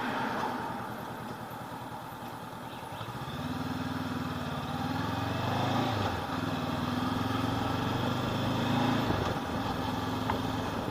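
A 2019 Honda CB500X parallel-twin motorcycle engine hums steadily while riding through town, its tone dipping then settling at a new pitch as gears change, close and continuous with no talk.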